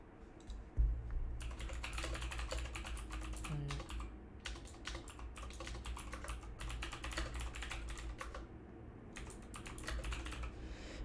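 Someone typing a note on a computer keyboard, sustained bursts of quick clicking keystrokes with short pauses, close and clear over a low steady hum, no talking.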